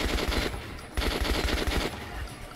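Rapid automatic gunfire in Metro: Last Light, a dense continuous burst of fast rattling shots that pauses briefly and resumes, moderately loud and close, with no voices.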